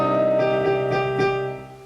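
Short piano passage from the Shin Gojira theme, a repeated right-hand note over sustained low chords, soft and close, fading out.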